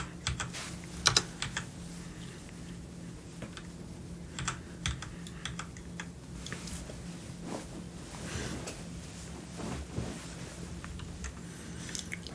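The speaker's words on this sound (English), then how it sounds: "Swap keyboards around chat so you don't hear as many tap tap tap tap tap tap tap." Rapid typing on a computer keyboard during a Marvel Crisis Protocol tabletop game session, with steady, close clicks and taps running throughout and a few louder key strikes, with no talk.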